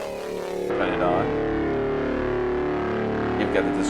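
A thick, sustained overdriven tone from the Eventide CrushStation overdrive effect for iOS, with buzzing harmonics, kicks in and holds steady, loud and close, with a few brief flutters near the end.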